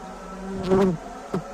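Bees buzzing close by at a hive while a naturally arrived honeybee swarm is being caught, heard as a brief, fairly faint hum that swells twice.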